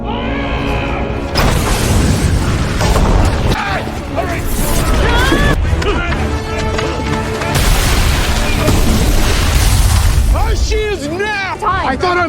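Animated Avatar battle against the Fire Nation erupts with booming explosions and bursts of gunfire, loud and continuous, mixed with shouting voices and swelling dramatic music.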